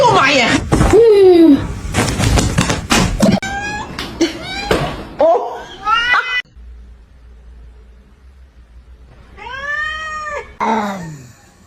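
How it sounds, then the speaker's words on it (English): A neighbour's cat meows repeatedly at close range, with several drawn-out, rising and falling cries broken by short pauses and one brief thud. No one speaks. "I was petting my neighbor's cat when suddenly"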